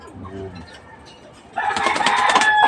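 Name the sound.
pigeons pecking at grit stones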